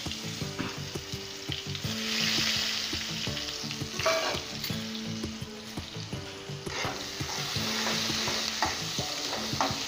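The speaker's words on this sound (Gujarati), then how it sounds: "કાંદા બદામી થાય ને ત્યાં લગી સાતડવાના એને" Onions sautéing in hot oil with cumin, curry leaves and asafoetida give a steady, close sizzle, broken by the repeated scrape and clatter of a spoon stirring the pan. No one speaks.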